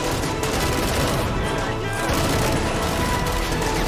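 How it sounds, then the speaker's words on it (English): Grenade blast in an Army Men video game battle, buried in a dense, loud, continuous wash of gunfire and combat noise with no clear single boom standing apart. "Grenade! He throws it back."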